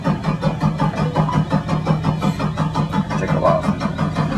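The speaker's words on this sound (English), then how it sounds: "And then you fire up the bus." A bus engine cranks and fires up, settling into a steady, throbbing diesel rumble with a regular pulsing beat, close and fairly loud, with no speech over it.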